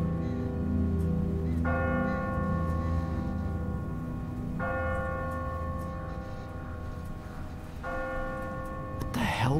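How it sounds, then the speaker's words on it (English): Church bell tolling from a bell tower in The Walking Dead video game, three slow ringing strikes that hang and decay over a dense low rumbling ambience, moderately loud. "Ask not for whom the bell tolls."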